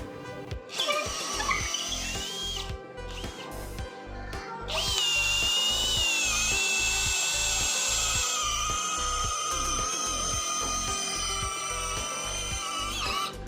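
A cordless brushless drill with a 10 mm auger bit whirs in short bursts, then runs at a sustained high whine while boring into 15 cm thick mahogany, with regular low knocking underneath throughout.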